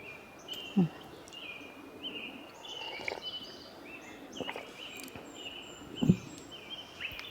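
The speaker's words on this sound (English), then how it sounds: "I had the most incredible birdsong, and I recorded some of it on my phone" Faint, high bird calls and chirps at dawn in a Washington State forest campground, repeating over a steady background hiss, with a few louder low notes near the start and end; recorded on a phone.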